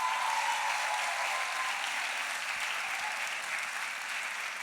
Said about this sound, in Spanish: ¿Por qué no le damos un aplauso a Rodrigo?